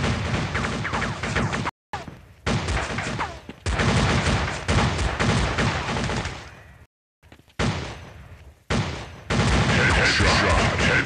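Sniper rifle fire in the mobile shooter Critical Strike CS crackles in loud bursts of rapid gunshots, broken by several short silent gaps, with game explosions and impacts mixed in.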